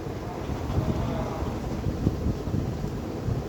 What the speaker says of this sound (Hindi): आज तो इंद्रदेव भी मेहरबान है, लगातार भारी बारिश के बीच हम लोग का क्लास चल रहा है